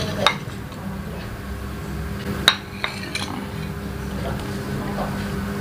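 Chicken noodles (mie ayam) being stirred in a bowl, with soft utensil scraping and a couple of sharp clinks against the bowl over steady room noise.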